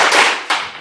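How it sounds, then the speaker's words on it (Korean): A lecture audience clapping together in a World Cup-style pattern: a couple of sharp, loud unison hand claps in quick succession, close and crisp. "월드컵 경기 때 쳤던 박수 기억해 오시면서 박수 5번 시작"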